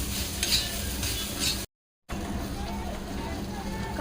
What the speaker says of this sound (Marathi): दहा ते बारा मी लसणाच्या पाकळ्या सोडून घेतलेल्या आहेत लसूण तर तोच यामध्ये आपण भाजायचा आहे आणि एक इंच आल्याचा तुकडा सर्व भाजून घेऊया